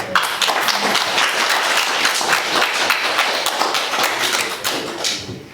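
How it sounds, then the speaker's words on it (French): A church congregation claps together in dense, sustained applause, loud and close, with a few voices mixed in before the clapping thins at the end. "On va applaudir le Seigneur."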